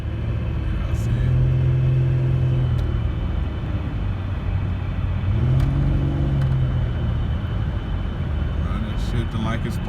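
Buick Rendezvous or Pontiac Grand Prix car driving with a continuous low engine rumble, rising and dropping in pitch twice as it shifts gears, while someone talks over it.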